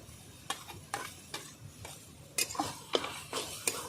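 Taro leaves are stirred with shrimp and sugar in a pan over a low sizzle. A spatula scrapes and knocks against the pan in regular strokes, roughly two per second, growing louder toward the end.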